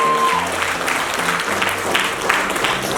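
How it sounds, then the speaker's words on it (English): An event audience applauds the women business owners present, steady clapping throughout with a sustained tone and low notes faintly underneath. "So a round of applause for all the powerful women sitting here today."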